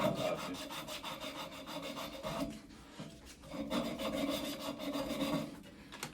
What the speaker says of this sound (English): We're gonna also make sure we deburr the pipe.